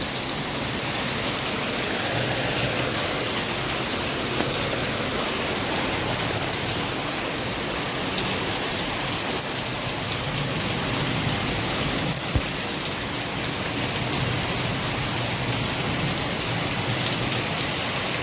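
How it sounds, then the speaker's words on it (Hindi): Heavy rain pouring down in a steady, dense hiss of countless drops striking surfaces, constant and loud throughout with no voices and only a brief sharper patter near the middle. "और इधर होने लगी है अब बारिश।"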